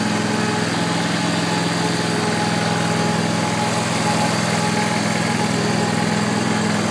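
A Scag STC52V-23BV riding mower's engine runs steadily as the mower drives, a loud, constant drone with a low hum and broadband mechanical noise throughout, no voices.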